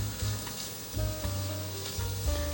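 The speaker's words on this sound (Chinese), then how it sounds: "铺在油上面，让它慢慢的煸香。 边边有点微焦了，再继续给它煸" Taro slices pan-frying in sesame oil, a steady close sizzle with soft crackles that swells and settles in a few waves, with a faint low hum underneath.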